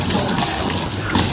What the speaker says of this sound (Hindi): जहाँ जहाँ पे इन्होंने सर्फ लगा दिया भाई वहाँ पे हम पानी मार देंगे ताकि इस पर दाग ना पड़ जाए।